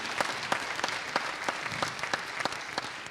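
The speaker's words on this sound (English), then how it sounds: "Mayor Sandy Moriarty, give her a nice round of applause." An audience applauds at a performing arts center, with steady, sparse clapping heard nearby and no voices.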